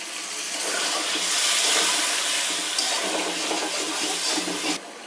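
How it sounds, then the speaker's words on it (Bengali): Water pours steadily into chicken cooking in a pan as a hissing, rushing stream, loud and close, before cutting off abruptly near the end. "তো তার জন্য আমি দিয়ে দেবো সামান্য একটু জল মাংসটা সেদ্ধ হওয়ার জন্য।"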